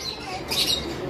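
A lutino lovebird pair gives a brief, faint high chirp that swells for a moment midway through the short clip against a soft background hiss.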